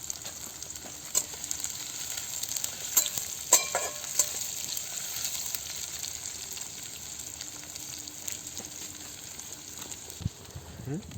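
Onions sizzle in hot oil in a pan where cumin seeds were already frying, a steady bright hiss running throughout with occasional clatters and pops, close by.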